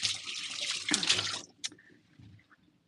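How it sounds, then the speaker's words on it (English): A kitchen tap runs as hands are washed, splashing for about a second and a half before the water shuts off, leaving a few faint drips and clinks. "I'm going to wash my hands off real quick"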